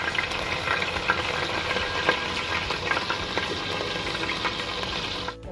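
Garlic and ginger frying in oil in a pot, a steady dense sizzle with small crackles throughout, close and fairly loud, no talking.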